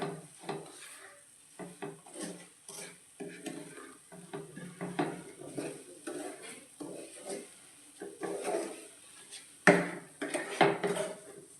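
Roasted semolina stirred into ghee in a pan while preparing banana modak, a Maharashtrian dish: a close series of soft scraping and spoon-on-pan knocks in an irregular rhythm, with a few sharper clinks near the end.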